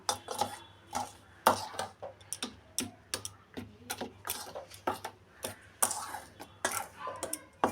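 Cake batter mixed with milk and water is beaten in a bowl, making a quick, regular series of clicking taps of the utensil against the bowl, close and fairly loud.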